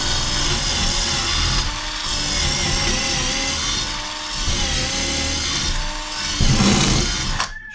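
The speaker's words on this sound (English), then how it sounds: "I'm just going to drill the holes through." A power drill whines steadily for several seconds, its pitch wavering as it bites through a thick wooden door, then cuts off abruptly at the end.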